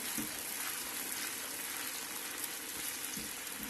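Tomato paste from two or three tomatoes sizzles in about a cup of hot oil, a steady dense frying hiss filling the whole stretch with no pauses and no talk, close and even in loudness.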